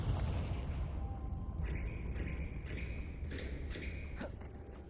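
Confringo blasting spell explosion in the video game Hogwarts Legacy, a deep rumbling blast that decays slowly, with faint magical chimes and tones over it.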